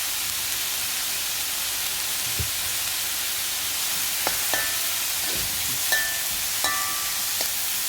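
Chopped onions with a little salt frying in a pan, a steady close hiss of sizzling with occasional faint clicks of stirring, no voices.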